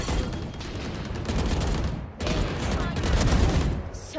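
Sustained rapid gunfire from the Valorant video game, dense bursts running almost continuously with a brief gap midway, loud and close.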